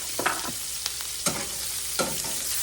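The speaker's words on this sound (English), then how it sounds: "And now our onions are cooking." Onions fry in pork chop grease in a skillet, giving a continuous close sizzle with a few sharp spatula scrapes spaced through it.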